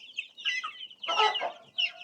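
Two-day-old Australorp chicks peeping in a brooder, a dense overlapping chorus of high, thin chirps, close and steady, with a brief louder burst of calls midway.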